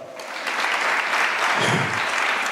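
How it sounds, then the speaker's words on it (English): Audience applause at a law career fair, a dense wash of clapping that swells after a brief start and holds steady and loud for a couple of seconds with no voices over it. "Give her another round of applause."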